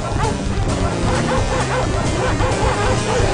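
Summoned dogs in a video game yip and bark over dense, loud game music and effects, the barks short and repeated in the mix.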